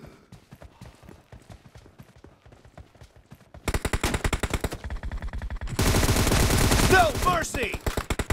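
Automatic gunfire and rapid shots in a PUBG team deathmatch, quiet sporadic pops at first, then dense loud bursts of continuous firing with a brief voice line.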